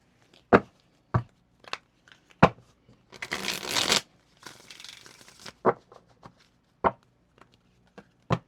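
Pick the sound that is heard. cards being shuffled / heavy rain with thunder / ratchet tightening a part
cards being shuffled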